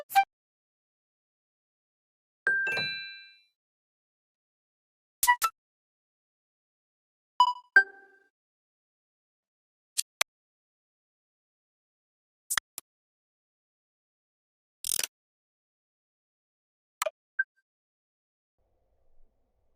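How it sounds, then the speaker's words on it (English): Nintendo Switch 2 home screen icon sounds: a series of short, soft electronic chimes and clicks, each a different tone, spaced a couple of seconds apart with silence between. "a clip from Nintendo Today going over all of these sounds the different icons make on the Switch 2 home screen"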